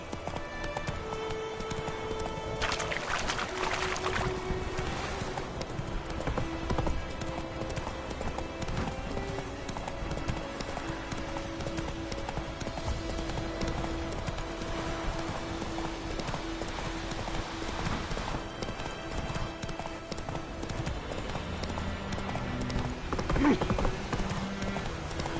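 A horse gallops in the Witcher 3 video game, with steady clip-clop hoofbeats, occasional whinnies and game sounds under a voice talking.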